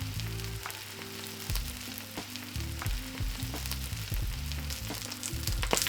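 Cabbage frying in oil in a hot pan sizzles steadily and close, with scraping and stirring clatter from the pan breaking through the hiss, no talk.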